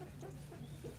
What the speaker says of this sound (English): because they are beautiful roosters